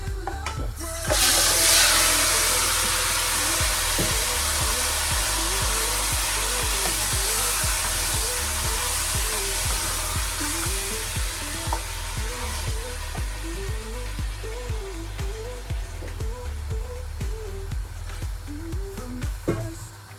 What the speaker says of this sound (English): we're gonna get the meat in our pot now